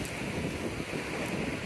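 Steady wind in the Nagano Alps roars as a continuous, moderately loud rush of broadband noise buffeting the microphone, with no voices.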